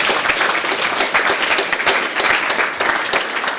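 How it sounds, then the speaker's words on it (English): A hackathon crowd at a live demo event applauds a team, with dense, steady clapping sustained throughout at fairly close range. "So give him a round of applause."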